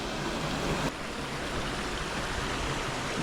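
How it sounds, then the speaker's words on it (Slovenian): A small waterfall spills into stream pools at Črni Puč in central Istria, making a steady, dense rush of falling and flowing water that stays loud and even throughout, with no talking. "Evo, to je ta prelep, majhen slapek."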